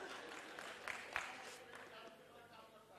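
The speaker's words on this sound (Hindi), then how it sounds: "देखो कितना खुश हो रहे लोग, आपके लिए ताली बजा रहे हैं" A seated audience claps along at a motivational talk on positive thinking, a soft, steady patter of many hands at moderate distance with a few sharper claps standing out.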